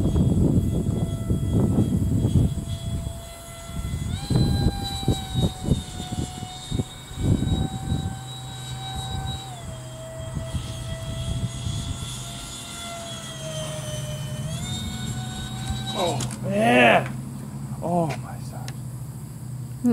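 A small model AMX jet with a thrust-vectoring engine whines as it is tested outdoors on a breezy day; its high tone rises and falls in steps over wind noise, with people talking nearby.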